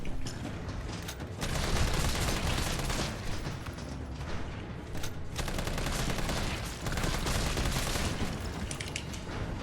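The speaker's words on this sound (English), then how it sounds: "just some more shooting" Sustained gunfire in Resident Evil 3 (2020), dense rapid shots and booms rolling on almost without a break for nearly ten seconds, loud and close, with only brief lulls.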